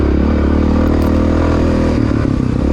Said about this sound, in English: riding the XR down those big hills, not the funnest thing, but performed pretty well